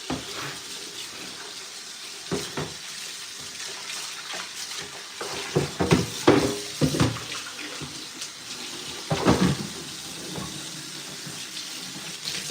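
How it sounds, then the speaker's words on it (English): Tap water runs steadily into a sink while an item is rinsed under it, with irregular splashes and clunks as it is handled; the flow is moderately loud and close, and no one talks. "Let me just rinse this off and dry it."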